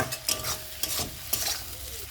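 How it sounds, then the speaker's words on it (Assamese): Fish oil fries with brinjal in a pan while it is stirred, a soft continuous sizzle broken by a few scraping stirs, close and without talk. "এতিয়া মই মাছৰ তেলখিনি বেঙেনাৰ সৈতে 2 পৰা 3 মিনিট ফ্ৰাই কৰি ল'ম।"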